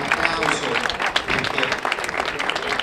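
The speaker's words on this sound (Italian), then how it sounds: "Chiedo un applauso." A crowd applauds steadily at the opening of the 37th wine festival in Castiglione in Teverina, many hands clapping in a fairly loud, continuous wash, with a murmur of voices mixed in.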